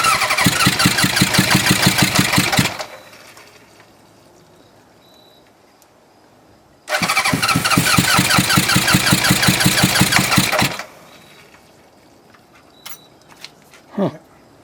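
Barn-find Honda Hondamatic 750 motorcycle engine, running poorly on one cylinder or carburetor, cranks and runs loudly twice with a pulsing beat, pausing in between, then a short rev near the end.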